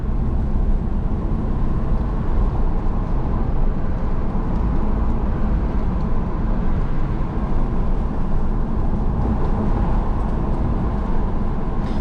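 A 2024 Subaru Impreza RS with the 2.5 engine cruising on a road, a steady, even interior rumble of engine and road noise with no talking.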